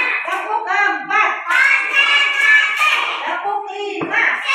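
A class of schoolchildren claps in a counted rhythmic pattern, their young voices chanting loudly and nearly continuously over and between the claps.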